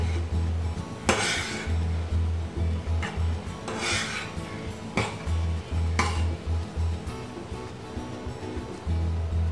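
Grated ginger being stirred into a jaljeera mixture, a utensil scraping and rubbing against a bowl in repeated rhythmic strokes with sharper clinks now and then, close and fairly loud.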